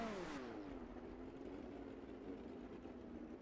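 A midget race car rolls out in a sim racing video game, its engine tone sliding down and settling into a steady, fairly quiet drone with a brief bright burst at the start.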